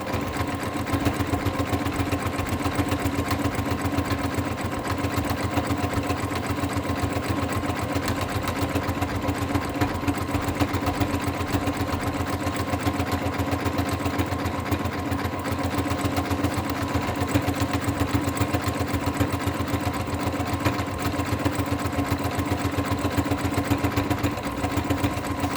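Sewing machine running steadily at a slow, even pace while stitching small fabric scraps together, a continuous close whirring hum with a rapid regular needle pulse and no pauses.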